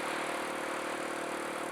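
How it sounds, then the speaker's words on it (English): A Kawasaki KLX170 motorcycle engine during break-in, ridden at around 20 miles an hour through a quiet neighborhood, hums steadily and faintly with a constant mid-pitched drone and light rattle. "The engine sounds great."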